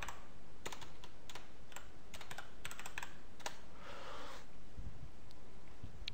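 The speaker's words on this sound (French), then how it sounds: "si on va dans Search et qu'on tape Reaper" A computer keyboard being typed on: quick, close, irregular key clicks in short runs, with a slightly longer burst of keystrokes near the end and no talking.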